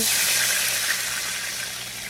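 About two cups of water go into a hot frying pan that still holds the drippings from Salisbury steak patties, giving a loud burst of hissing sizzle that slowly fades over two seconds.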